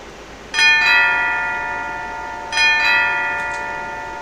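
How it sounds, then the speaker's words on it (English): School bell in the game Symphonic Rain, two clear metallic chimes about two seconds apart, each ringing out and slowly fading, close and fairly loud with no talk. "The last bell rang out."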